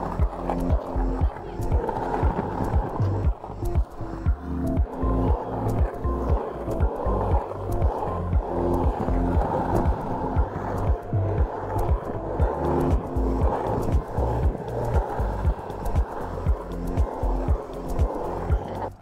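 Skateboard wheels roll over a new concrete skate spot on a boulevard, a steady loud rumble with repeated clacks and thumps running throughout and no break.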